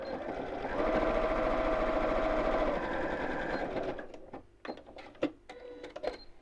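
Sewing machine stitching across the bottom of a large tie tote bag, a steady mechanical whirr for about three seconds that then stops, followed by soft handling clicks and rustles.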